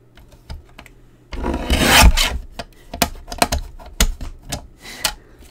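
Scissors cut paper into half inch strips close up, with a longer rasping cut followed by a series of short, sharp snips and rustles in an irregular rhythm, without speech.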